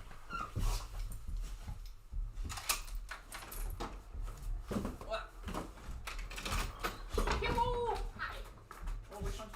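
A dog whimpers and whines in short bursts near the microphone while a person talks, along with occasional rustling and thumps indoors.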